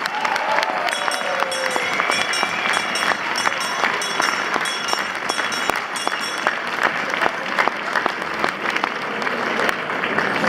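Warm crowd applause rings out for carnival musicians at the Malmedy carnival, loud and sustained with sharp individual claps popping through a dense roar, and faint voices mixed in.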